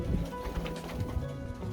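A racing pigeon coos softly in a loft, giving a few low, muffled throaty coos against faint background rustle, short and close.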